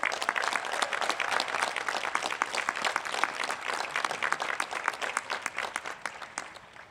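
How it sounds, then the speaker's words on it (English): Sustained applause from the audience at a college commencement ceremony, dense steady clapping of a large crowd lasting several seconds and tapering slightly at the end, with no voices over it. "Please show them your gratitude with another round of applause."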